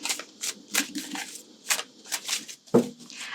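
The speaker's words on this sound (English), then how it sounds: "And one final thing to shuffle." Tarot cards being shuffled by hand, a series of soft papery riffles and slides in quick bursts, close and fairly quiet, with one sharper tap near the end.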